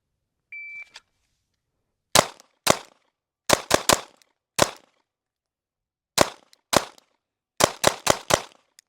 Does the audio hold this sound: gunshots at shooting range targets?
yes